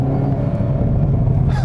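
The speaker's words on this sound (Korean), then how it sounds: "지금 이 차도 뒤에 팝콘 소리가 바바박 나고 있죠" Hyundai Kona N hot hatch engine rumbling loudly and steadily from inside the cabin, a dense low drone with faint crackles from the exhaust barely standing out.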